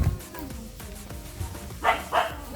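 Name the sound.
dog barking on farm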